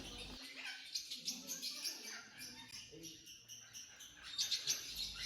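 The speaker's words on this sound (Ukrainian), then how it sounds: "А ось за ним видно, як парубка обліпили з усіх боків папуги" Parrots in a bird park, including red rainbow rosellas and a pink cockatoo, chirp and squawk in a dense, continuous chatter of overlapping high calls with quicker bursts throughout.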